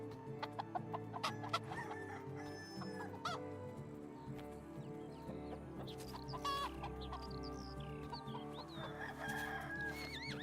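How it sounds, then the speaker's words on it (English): Chickens cluck and a rooster crows in the medieval farming game Medieval Dynasty, a busy layered chorus of repeated clucks and calls over a steady ambient bed, moderately loud with no speech. "I could corral the chickens."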